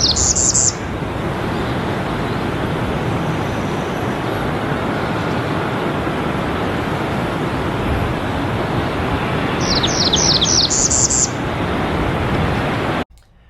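A slower, buzzier variant of an eastern warbler's spring song: a brief high note at the start, then a tight series of buzzy descending notes later on. The song sits faintly over a steady, traffic-like roar.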